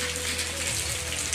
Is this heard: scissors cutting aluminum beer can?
no